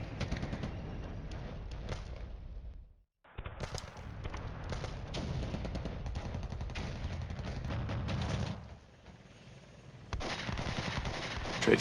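Sustained gunfire exchange in the Cold War wargame Flashpoint Campaigns, dense overlapping shots and bursts running almost throughout, loud and continuous, with a short silent gap early on and a brief lull near the end.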